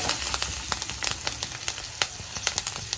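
Curry leaves, turmeric and cumin sizzle in hot oil for mango chitranna, a soft steady fry hiss dotted with small sharp crackles and pops.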